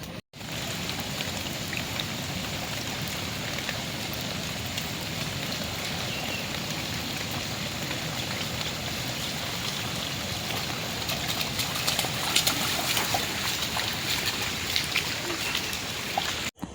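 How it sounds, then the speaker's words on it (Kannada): Small stream of water gurgling outdoors in the Udupi countryside, a steady broadband wash that fills the whole stretch at an even, fairly loud level with no talking. "ಹಾಗೆ ಚಿಕ್ಕ ಚಿಕ್ಕ ನೀರಿನ ಸೌಂಡು, ನೀರಿನ ಜುಳು ಜುಳು ಸೌಂಡು"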